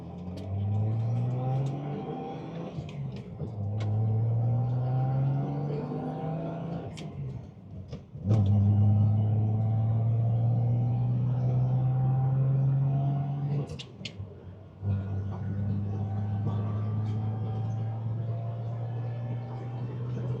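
A 1973 Datsun 240Z inline-six with a four-speed manual drones steadily while cruising at about 55, its engine note rising and settling through gear changes, up close and continuous with no talking.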